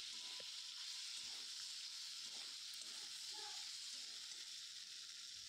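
Tomatoes with ginger-garlic paste being stirred and fried in a pan for an egg and potato curry give off a constant, soft high sizzle with faint stirring scrapes underneath.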